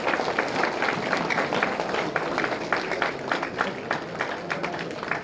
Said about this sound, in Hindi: तालियां मारो भाई